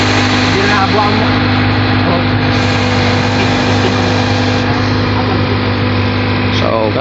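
A Mazda 5 car engine runs steadily after being started, a loud, constant idle hum close by, with voices talking over it.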